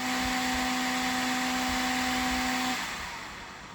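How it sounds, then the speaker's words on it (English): A large auxiliary part-cooling fan on the right side of a Creality K1 3D printer runs loudly with a dense, steady whooshing roar and a constant whine, close by, then cuts off and spins down near the end. "a giant-sized auxiliary fan to cool your part down, attached on the right side of the printer. It provides good amount of part cooling, but it is very loud"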